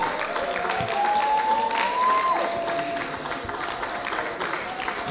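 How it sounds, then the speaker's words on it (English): A congregation claps at a Good Friday church service, a steady, fairly loud wash of applause with a sustained rising musical tone running through part of it and a faint voice underneath. "please give them a round of applause."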